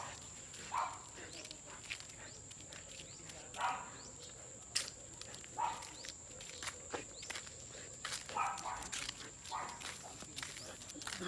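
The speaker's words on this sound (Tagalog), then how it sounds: "Maraming aso dyan, oh." Several dogs bark in short, scattered bursts at a distance on an outdoor morning, with soft footsteps and a steady high whine running throughout.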